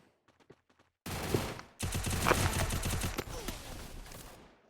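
Gunfire in the mobile battle royale game Free Fire: after a second of faint ticking, loud rapid automatic bursts erupt abruptly and keep rattling, with a short gap before a second sustained volley that fades toward the end.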